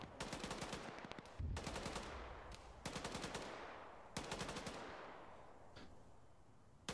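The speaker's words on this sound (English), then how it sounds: "Who in the fuck is shooting at us, bro?" Arma 3 gunfire comes in loud, sharp automatic bursts, four or five rapid strings of shots each trailing off into a long echoing decay, with no voices.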